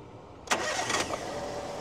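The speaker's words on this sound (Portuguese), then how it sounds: "Um amigo vai dar partida aqui no motor para a gente escutar o carro funcionando" A used car's engine cranks and catches with a sharp broadband burst about halfway through, then settles into a steady idle, heard close at a used car fair in Caruaru, Pernambuco.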